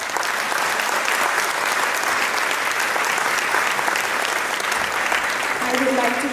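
Sustained, dense applause from a concert audience welcoming an Indian fusion music group at a 2016 show in Raleigh, North Carolina, loud and steady throughout with no pauses.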